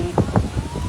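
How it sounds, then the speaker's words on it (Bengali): Heavy rain patters steadily around a boat on Tanguar Haor, a dense wash of drops with a faint voice murmuring underneath. "বেশ ভালো বৃষ্টি নামছে"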